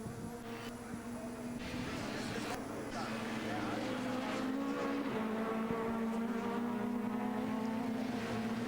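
Touring race cars in the 1998 STW round at Wunstorf, including an Audi, crossing the start-finish line with a sustained, buzzing engine whine that builds steadily under continuous race commentary.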